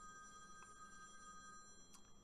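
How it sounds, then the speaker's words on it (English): A telephone ringing somewhere in a house, faint and distant, with a steady electronic tone held over quiet room noise. "As a phone goes off in the distance of my house"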